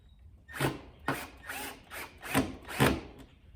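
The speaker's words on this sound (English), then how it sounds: "And then you tighten down your nut on the inside." Ratchet or wrench tightening the inside nut on a Ford Crown Victoria corner light, five short rasping bursts in a steady rhythm, close and fairly quiet.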